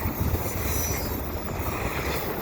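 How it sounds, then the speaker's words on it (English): A CN intermodal freight train rushes past at speed, a loud, steady rumble of wheels and rail cars with faint squealing, alone with no talk. "So this train's eastbound."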